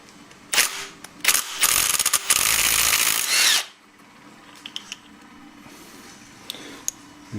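A power tool whirs in a few short bursts and then one longer sustained run while loosening a nut on a Honda Grom engine during an engine rebuild. After it stops there are quiet metallic clicks and handling sounds.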